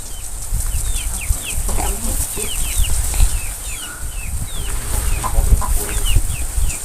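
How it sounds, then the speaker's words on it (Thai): Farmyard chickens with a large breeder rooster kept for crossing with village hens, repeated close clucks and squawks over steady insect drone, with occasional wing flaps and rustling. "นั่นไก่พ่อพันธุ์เลยแต่ตัวใหญ่ๆนี่ เอามาผสมกับไก่บ้าน"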